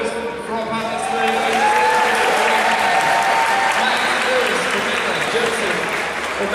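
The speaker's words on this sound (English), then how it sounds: "give a massive round of applause for our partners today" An audience applauds partners at a stage event, steady loud clapping with some cheering throughout, and voices and a tonal sound faintly running underneath.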